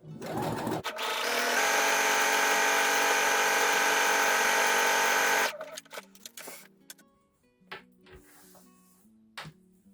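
A sewing machine runs a stretch stitch along a jersey knit neckband, a steady close mechanical whir for about four seconds, then it stops and soft handling clicks and rustles follow.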